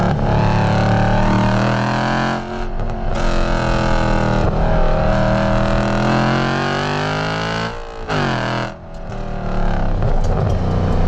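A 2007 Audi RS4 with its naturally aspirated V8 and manual gearbox pulls hard, engine note climbing through the revs, then dipping briefly at gear changes before rising again, loud and close throughout.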